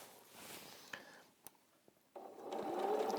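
A sewing machine stitches lime green fabric, starting with a few faint clicks and taps, then breaking into a louder, steady whirring run for the last second or so.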